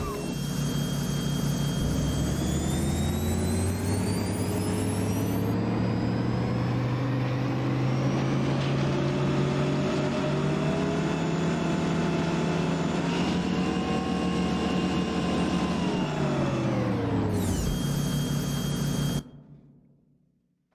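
A custom jet turbine engine in a truck in American Truck Simulator gives a loud, sustained whine over a low cabin hum, its pitch rising and then falling before it cuts off abruptly.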